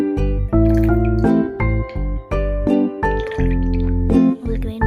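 Thick hot chocolate dropped from above back into the pot, making a run of deep, rounded glooping plops in an uneven rhythm, close and fairly loud.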